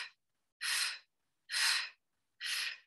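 Three strong, breathy exhalations during a Pilates exercise, evenly spaced about once a second with silence between, close and alone with no talk.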